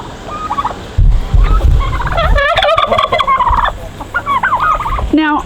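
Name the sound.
turkeys gobbling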